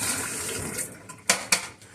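Water runs from a kitchen faucet spout in a steady splashing stream, with two sharper splashes or knocks near the end of the short stretch.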